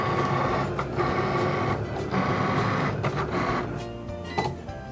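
A Cricut Explore cutting machine running on its fabric setting to cut bunting, with a loud, steady mechanical whir and shifting motor tones, plus brief clicks as the carriage changes direction.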